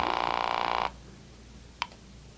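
An old telephone bell rings loudly and steadily in a radio drama scene, cut off after under a second, followed by quiet room tone and a faint click.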